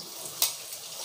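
Squash goes into a pan of garlic frying golden brown, giving a loud steady sizzle with a sharp hiss and stir clatter as the pieces hit the hot oil.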